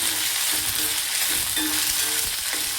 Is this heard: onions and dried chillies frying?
yes